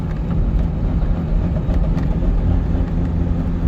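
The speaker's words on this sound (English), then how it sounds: "the engine at about 1200 RPMs at very light throttle, and you can clearly hear some light bucking" A deep, steady Corvette C6 V8 engine rumble at about 1200 RPM under very light throttle, with a slight uneven chug from bucking, loud and close with no voices.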